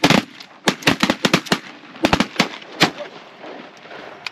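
Shotguns fire during a goose hunt at a cattle pond, a rapid volley of loud, close blasts from several guns in quick succession that tapers off into quieter rustling.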